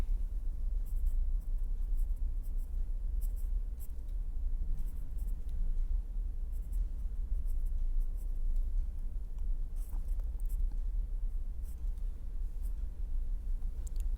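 Chalk or marker scratches across a board during a mathematics lecture in short, repeated strokes, faint and close, over a steady room hum with no speech.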